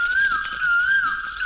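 A person whistles a single sustained, wavering tone in imitation of a koel bird's call. It is close and clear, with no talking.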